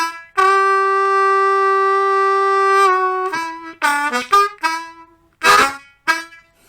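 Bars 5 to 8 of a blues tune on blues harmonica, solo and close: a long held note, then a run of short choppy notes and bends with a breathy accent near the end.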